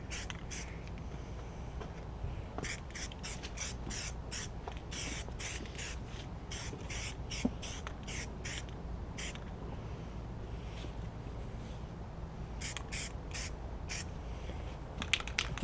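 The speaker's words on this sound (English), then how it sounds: "If you get way down in the fins, hold your spray way back and you get right up to the cylinder liner." Aerosol primer sprayed onto REO engine parts, including finned cylinders, in repeated short hissing bursts of varying length with gaps between, fairly faint and close, with no talking.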